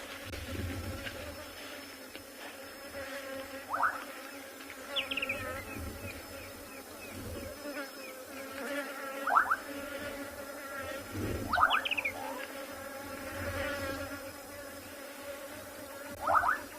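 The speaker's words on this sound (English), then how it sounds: "I'm just going to let you guys get in touch with the hive of activity from these bees" Honeybees buzzing steadily around a busy hive outdoors in South Africa, a continuous insect drone with individual bees whining past up close, joined by several short bird chirps.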